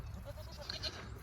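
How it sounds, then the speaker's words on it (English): Goats on a farm bleat faintly in the distance, with a few short thin calls over low outdoor wind rumble. "we got these goats over here"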